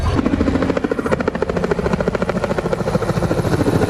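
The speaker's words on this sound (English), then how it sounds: "scores of patrons are in a queue waiting to have a short ride over Johannesburg in helicopters" Helicopter at an expo ground over Johannesburg, its rotor thudding in a fast, steady pulsing beat over a loud engine whine, close and constant throughout.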